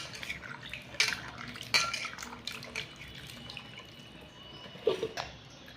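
Water splashing and dripping as thinly cut coconut pieces are rinsed in a bowl, with a few light clinks of a dish at about one, two and five seconds over a faint steady trickle.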